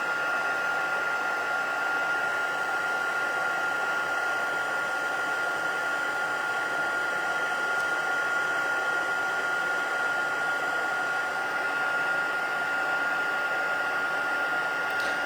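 A heat embossing tool blows a steady, loud whooshing hiss while melting embossing powder on a shaker wedding card, continuous and close for the whole stretch with no talking.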